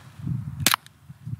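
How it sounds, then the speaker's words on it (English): A single gunshot fired through two stacked feather pillows gives one sharp, muffled crack, short and fairly loud, between quiet low rumbling. "it really does suppress the sound of a gunshot"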